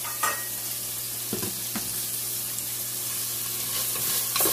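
Chicken with onion, garlic and yellow pepper cooks in a pan over low heat, giving a soft steady sizzle with a low hum beneath and a few faint stirring clicks, close and even.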